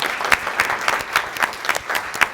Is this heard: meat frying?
no